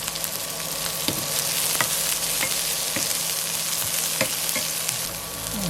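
Green onions fry in a pan of mutton curry with a loud, steady sizzle. Scattered clinks from stirring sound close by, and nobody speaks.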